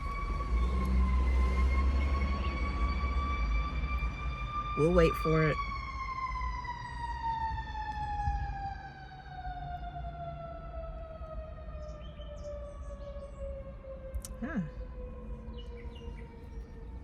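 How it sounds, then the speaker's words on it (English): A wailing emergency siren slowly passes and fades away, its long tone gradually dropping in pitch, while a person briefly speaks over it. "Let's let the siren go by first."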